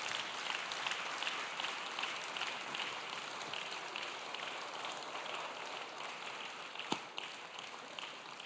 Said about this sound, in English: So let's give them a large round of applause.